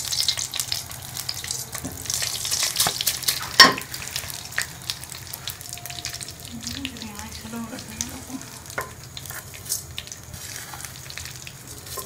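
Crushed vermicelli being fried in a pan on medium heat for sheer khurma, with a quiet steady sizzle and intermittent stirring scrapes and clinks, plus a brief louder knock partway through.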